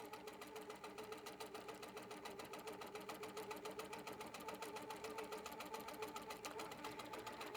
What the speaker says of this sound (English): As the machine is stitching, I have the capability to zoom in or zoom out or pan.